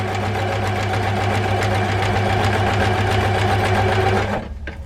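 A sewing machine stitches a sawtooth star quilt block, its motor running loud and close in a steady mechanical whir before stopping abruptly near the end.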